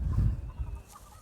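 Mixed-breed chickens and a rooster cluck softly close by, a short burst of low throaty clucks that fades after a moment.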